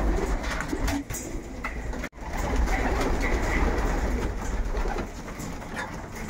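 Racing pigeons coo steadily inside a loft in Silesia, a soft continuous murmur of several birds close by, broken by one brief dropout midway.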